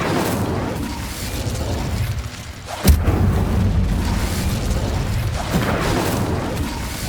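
An Incendio fire spell blasts in Hogwarts Legacy with a single sharp boom partway through, set against a dense, loud background rumble of game sound that carries on before and after.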